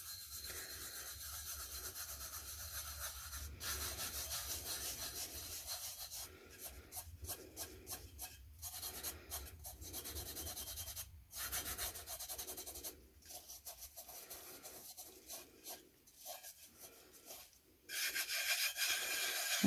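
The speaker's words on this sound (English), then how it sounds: "I don't want to burnish it right back down to the silver, but I do want to try and work out that line somewhat." Steady rubbing and rasping as a glitter tumbler's coated surface is burnished by hand, with repeated strokes broken by short pauses, close and fairly loud with no talking.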